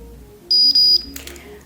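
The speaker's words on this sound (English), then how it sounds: "You just need to wait for this beep." A Wavytalk Power Wave hair crimping iron gives two quick, clear high-pitched electronic beeps in succession, followed by a short rustle.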